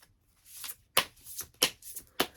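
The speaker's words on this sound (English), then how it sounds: "Let's get another shuffle here." Tarot cards are shuffled by hand in quick, crisp riffling bursts, about four sharp flutters in close succession with brief pauses between, near and clear with no talk.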